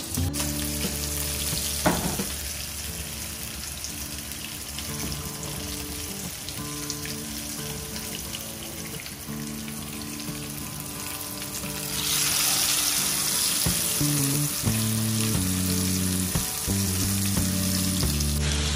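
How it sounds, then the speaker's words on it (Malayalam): Fish sizzles steadily in a hot pan, a dense continuous frying hiss that grows louder partway through, with occasional faint utensil clinks and no talk. "അപ്പൊ നമ്മുടെ മീൻ ഇവിടെ അടിപൊളിയായിട്ട് ഫ്രൈ ചെയ്തുകൊണ്ടിരിക്കുകയാണ്"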